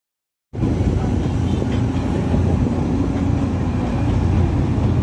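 The Darjeeling toy train, a small mountain railway, rumbles steadily and loudly up close after a sudden start, a continuous rolling drone of wheels and carriage noise with no speech.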